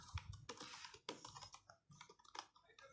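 Rapid, steady clatter of keys on a computer keyboard as web code is entered, close and fairly quiet, with no voices.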